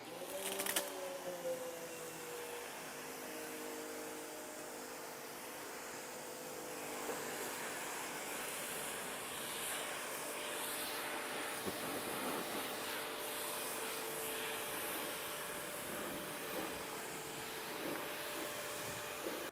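A Giraffe Tools Grandfalls Plus retractable wall-mounted pressure washer rinses a vehicle, giving a steady, broadband spray hiss that holds for the whole stretch, with slight rises and scattered splattering as the water jet moves across the surfaces.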